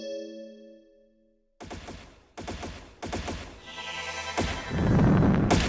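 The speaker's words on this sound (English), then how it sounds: "Is that gunfire?" Gunfire in the video game Trails in the Sky SC: after a quiet musical tone, repeated bursts of rapid shots crackle in loud volleys, building into continuous firing.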